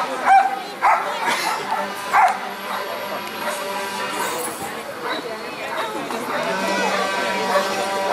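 A dog keen for prey at a working dog demonstration gives a few sharp barks and yips near the start, then goes quieter under ongoing talk and crowd chatter.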